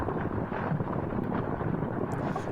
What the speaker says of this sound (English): Another good gust there.